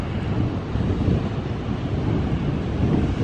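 Atlantic Ocean surf rumbles at Cape Elizabeth, Maine, near the Portland Head lighthouse, a steady low wash of waves blended with gusty wind noise and no voices.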